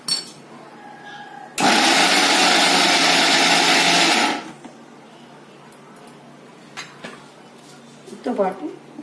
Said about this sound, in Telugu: రొయ్యల్ని గ్రైండ్ చేసుకోవాలి.